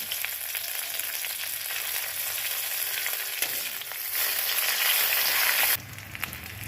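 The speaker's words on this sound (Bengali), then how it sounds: "তারপরে একটু জিরে, তারপরে চেরা কাঁচা লঙ্কা দিয়ে একটু নেড়ে নিতে হবে।" Cumin seeds and slit green chillies fry in oil while being stirred. The hiss is steady and dense, swells louder partway through, then drops off sharply near the end.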